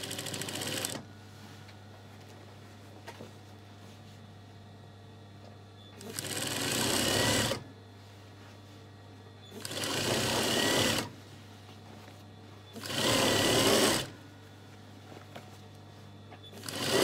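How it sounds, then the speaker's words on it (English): A sewing machine runs in three bursts of steady mechanical whirring, each roughly one to two seconds long, as it stitches a seam to narrow a trouser leg. The bursts are separated by quiet pauses with a low hum underneath. "take it to my sewing machine."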